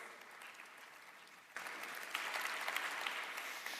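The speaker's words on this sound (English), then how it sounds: "Round of applause." A crowd at a football coaching conference claps softly, then swells suddenly into fuller, louder applause that carries on steadily.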